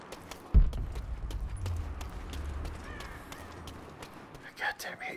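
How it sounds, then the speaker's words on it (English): Crows caw in the Rise of the Tomb Raider game, a few harsh calls late in the sequence after a thud and trotting sounds, with someone talking over the game audio. "I goddamn hate crows."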